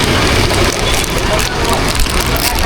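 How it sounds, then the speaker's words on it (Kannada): Heavy rain pours down in a loud, unbroken roar of dense hiss and patter that fills the whole stretch, with no pauses. "ಇಷ್ಟು ಮಳೆ ಬರ್ತಾ ಇದೆ"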